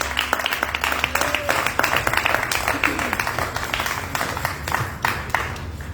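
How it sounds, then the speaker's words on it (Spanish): Congregation applauding during a Spanish-language church service, a sustained burst of many hands clapping with scattered sharp claps, voices mixed in beneath. "¿Por qué no le damos un aplauso de verdad al Señor,"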